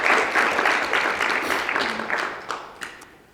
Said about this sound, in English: we should give a round of applause to Rabbi Yaniv for everything he does